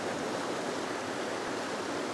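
A waterfall near a cave in Karamea, New Zealand, gives off a constant, dense rushing roar, steady and fairly close, with no talking.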